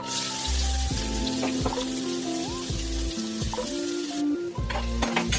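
Onions and chillies frying in a pan of oil after tempering spices, giving a steady close sizzle with watery crackle that runs throughout without talk.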